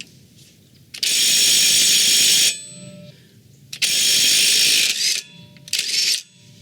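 A ratchet slowly loosens a stubborn front axle nut on an early-2000s Nissan Sentra, sounding as three loud, close bursts of rapid clicking separated by short pauses, with faint metallic clinks between them and no voices.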